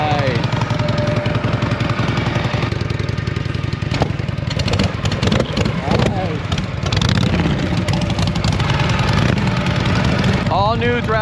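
1950s Harley-Davidson Panhead motorcycle engine running loud and close, a steady rumbling idle with rises in pitch from throttle blips, continuous throughout.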